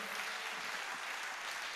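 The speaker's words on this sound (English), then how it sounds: "You don't clap like that for God. You clap for home." A church congregation claps in a short, faint burst of dense, even applause.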